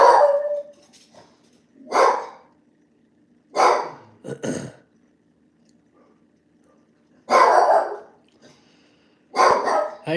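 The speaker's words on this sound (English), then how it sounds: "You can't bark at people walking." Benny, a small dog, barks at people walking past: five separate bursts of sharp, close barks spaced a couple of seconds apart with quiet between them and no talk.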